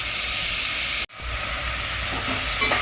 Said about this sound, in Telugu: రొయ్యలు బాగా వేగుతూ ఉన్నాయి కదా